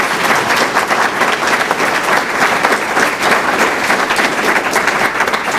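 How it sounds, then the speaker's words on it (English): An audience at a League of Women Voters panel event claps in a steady, dense round of applause for the panelists and moderator, loud and sustained throughout with no break. "let's give our panelists and our moderator a big round of applause"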